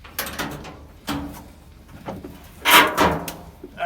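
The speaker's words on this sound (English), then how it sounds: "Got to open the door." An old car's door being opened at a vintage car festival, with a few mechanical clunks and latch sounds nearby, the loudest near the end.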